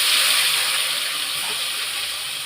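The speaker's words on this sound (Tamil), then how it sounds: "அந்த அரைச்சி வச்சதை எண்ணெயில் போட்டுக்க போகிறேன்" Ground spice paste hitting hot oil while making a tomato rice, cauliflower fry and nellikka pickle lunch, giving a steady bright sizzling hiss that fades slightly over a few seconds.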